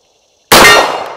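A single loud metallic clang as an FNH FNX 45 pistol round strikes a steel target, ringing out sharply and decaying over a second at an outdoor shooting range.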